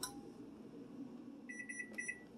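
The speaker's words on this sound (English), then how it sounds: "Stop that timer." A kitchen timer beeps during baking of banana muffins, a faint run of quick high electronic beeps rising over a low hum of kitchen background noise.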